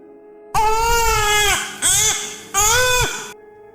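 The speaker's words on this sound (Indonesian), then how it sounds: "Terdengar suara tangisan bayi di balik pintu kamar Ratih." A newborn baby cries behind a bedroom door in three loud, wailing bursts separated by brief gasping pauses, close and clear against a quiet background.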